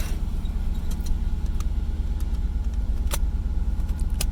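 Third-generation Camaro engine idling, a steady low rumble with a faint uneven pulse, heard close from inside the car along with a few light clicks.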